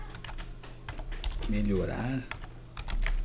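Computer keyboard keys are typed quickly and close up while someone speaks Portuguese, giving a steady patter of light clicks under the voice.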